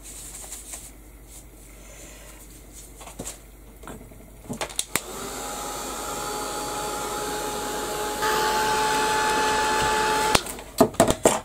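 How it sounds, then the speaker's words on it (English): Heat gun blowing on a junk journal page, with scattered handling clicks and rustles first, then a steady loud blowing whoosh that steps up in intensity before stopping, followed by a few sharp knocks. "just quickly give that a blast with the heat gun"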